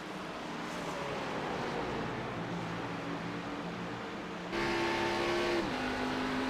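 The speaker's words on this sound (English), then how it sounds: "And you can hear the downshift there by Mayato as they come off the exit." A race car at Pocono downshifts on a corner exit, its engine note dropping, then climbing sharply into a louder, higher pitch heard from a distance over steady track noise.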